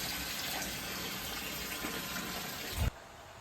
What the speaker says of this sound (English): So she is in the parts washer. That's water coming in.